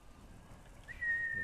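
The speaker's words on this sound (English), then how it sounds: "I'm going to go ahead and call for my horse over here." One short, clear whistle calls a horse in the video game Ghost of Tsushima, a single rising then steady tone over low background sound.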